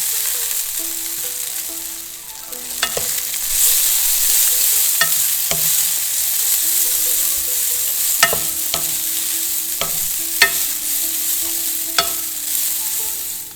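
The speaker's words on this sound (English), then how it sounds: "Add the noodles and move it around quickly and turn the heat to medium." Longevity noodles stir-fried in a wok with oil and sliced garlic over medium heat, a steady close sizzle broken by repeated sharp scrapes and clacks of the utensil tossing them, with no talking.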